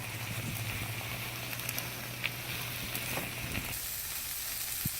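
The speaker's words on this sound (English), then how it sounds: "So once you add your red lentils, just mix it around into the vegetables and let that dry roast for a couple minutes as well" Red lentils and vegetables dry roast in a pan, giving a steady close sizzling hiss with faint scattered crackles throughout and no talking.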